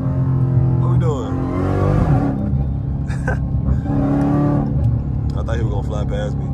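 A Dodge Hellcat's engine rumbles and surges while driving as the throttle is pressed, a continuous loud drone with rising and falling pitch under near-constant talking.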